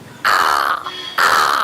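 A voice imitates a crow's caw: two loud, harsh, nasal calls separated by a short gap, close and clear with no other talk.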